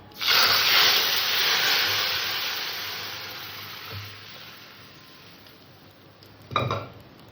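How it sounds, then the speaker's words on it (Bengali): Cooked lentils poured into hot oil with scorched mustard seeds and chilli erupt in a loud steamy hiss that slowly dies away, followed by a short second burst of sizzling and a metallic clink. "সর্ষেটা লঙ্কাটা পুড়ে গেছে আমি এবার ডাল দিয়ে দিলাম"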